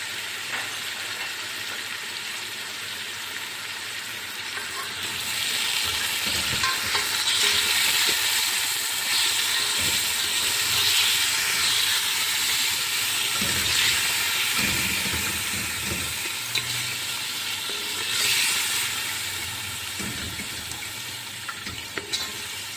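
Cumin seeds and black pepper sizzle and crackle in a hot pan for white sauce pasta, a steady close hiss that swells louder midway and holds with faint stirring, no voices.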